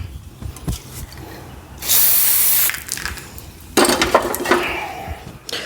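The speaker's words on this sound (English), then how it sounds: "Let me spray it down." A worn, oblong-feeling bearing on an '84 Jetta gets sprayed down in two sharp hissing bursts between clinks and ratcheting handling noises, close by, with no talking.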